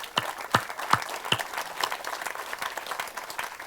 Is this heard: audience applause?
yes